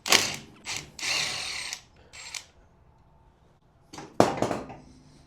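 A power tool zips off a 9/16 nut on the upper control arm of a G-body car during a Bilstein shock install, in several short whirring, ratcheting bursts with brief pauses between them.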